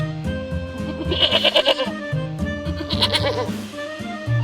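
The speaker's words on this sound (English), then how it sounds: "Goat." A goat bleats in two quick wavering bursts, nasal and close, separated by a short pause, over a light bouncy music track.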